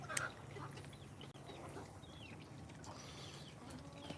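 Many chickens clucking inside a coop, a dense chorus of soft clucks and brief calls at low level over steady background noise, with no talk.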